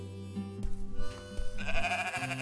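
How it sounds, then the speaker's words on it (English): Sheep bleating in a farm area of a video game when poked, several loud bleats over game music with a harmonic, slightly wavering tone. "Oh, they make different sheepy noises."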